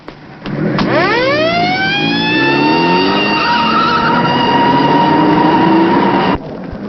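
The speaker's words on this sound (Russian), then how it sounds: "И включи сирену." A police car siren in a 1984 film winds up from low to a loud, steady wail, with engine noise beneath. It holds close and continuous for several seconds before cutting off.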